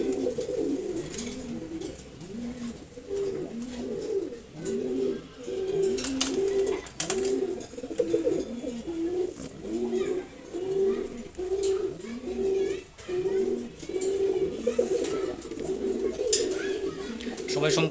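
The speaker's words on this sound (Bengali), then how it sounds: "হাই ফ্লাইং রেসার কবুতর, এটা হচ্ছে নর আর হচ্ছে মাদি।" High-flying racer pigeons, a male and female pair, coo in steady repeated rolling phrases throughout, close and clear, with continuous low throaty calls and no talk.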